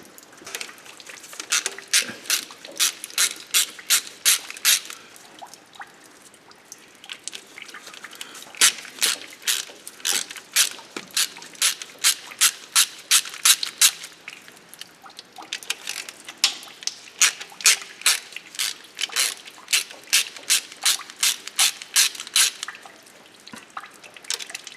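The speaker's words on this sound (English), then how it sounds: "And then I remove 4 of the sump bolts." A socket ratchet works sump bolts loose on a Volvo B18/B20 engine, with fast runs of crisp clicks repeating in bursts and short pauses between, close and clear with no talk.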